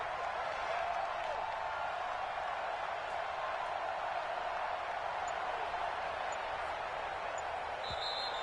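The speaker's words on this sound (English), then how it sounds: "And the home crowd applauding." A home crowd at a basketball game applauding, a steady wash of clapping and cheering that fills the arena at an even level, with a faint bounce of the ball near the end.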